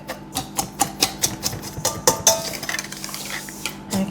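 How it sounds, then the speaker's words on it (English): A spoon clinks rhythmically against a bowl while sugar is mixed for chewy chocolate biscuit dough, about a dozen sharp taps that give way to softer scraping. "While that's melting, I'll just mix in my sugar."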